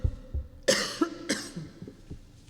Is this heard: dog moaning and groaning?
no